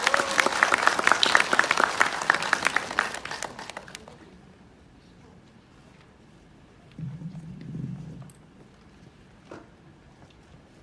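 A lecture-hall audience claps in dense, loud applause to welcome a lecturer to a special talk on information education and algorithm teaching, the clapping fading out after about four seconds, followed by a brief low murmur of voices.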